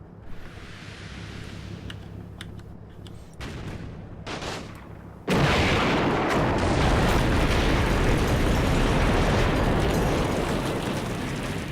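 A tank cannon fires in a snowy video game, letting off a sudden heavy blast that swells into a loud, sustained roar of rumbling explosion after a few quieter crackling moments.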